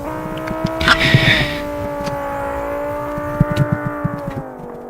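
A Hirochi Formula 3 race car in BeamNG runs at steady moderate revs with a sustained engine drone, a brief louder surge early on and a few light bumps and clicks near the end.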